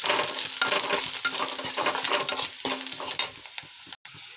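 Brinjal bharta mixture with salt being sautéed in a pan, giving a dense, busy sizzle with constant stirring and scraping of a spoon against the pan, close and loud, with no voices.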